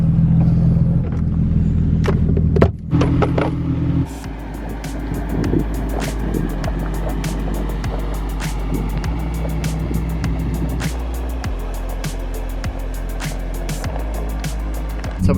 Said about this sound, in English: So we found some more speed bumps